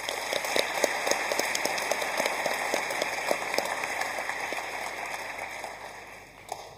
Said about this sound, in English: Please can we have one more round of applause for Mr.